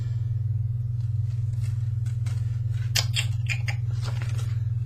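A DVD case with a paper insert is handled up close, giving a few soft scraping and clicking rustles over a steady low electrical hum.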